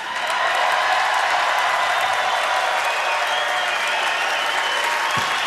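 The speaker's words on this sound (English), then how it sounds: "how about a round of applause for the great city of Columbus?" A large arena crowd in Columbus applauds steadily at the 2015 NHL All-Star Fantasy Draft, a dense, even wash of clapping that holds loud for several seconds, with a faint voice underneath.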